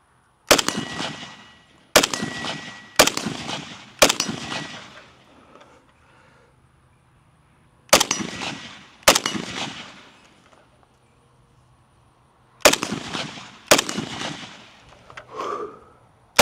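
A SIG 551-A1 rifle fires single sharp, loud shots outdoors, spaced in short clusters with quiet gaps between them, each crack trailing off in a brief echo.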